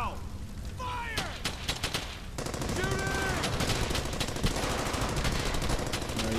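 Heavy gunfire in the World War II shooter Brothers in Arms: Hell's Highway, dense overlapping machine-gun bursts and rifle shots that run continuously and loud, with shouting voices mixed in.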